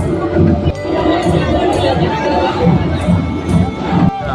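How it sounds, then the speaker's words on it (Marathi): A dense crowd of devotees fills a small temple during a festival procession, with close, continuous babble of many overlapping voices and occasional brighter shouts and jingles. "ही बघा मरणाची गर्दी आणि वाटव छोटी आहे त्याच्यामुळे सगळी गर्दीच दिसते"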